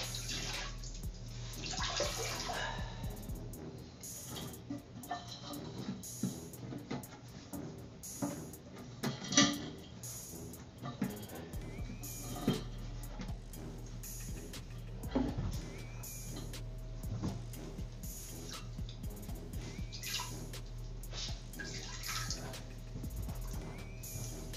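Water drains out of a toilet tank during a parts replacement, a low steady trickle and gurgle with small drips and faint clunks running on throughout, quiet and close, with no talk over it.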